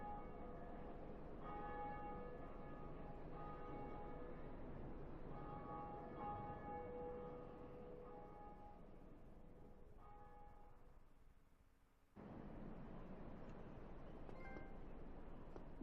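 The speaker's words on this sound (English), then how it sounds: "Ring the bell, Undead Church." Church bell ringing in the Dark Souls Remastered video game, heard as repeated resonant metallic tolls with long humming decay, fairly distant and steady over a low ambient rumble, pausing briefly before the droning resumes.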